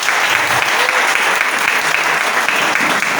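A church congregation claps in a dense, steady burst of applause, loud and continuous throughout with no talk over it.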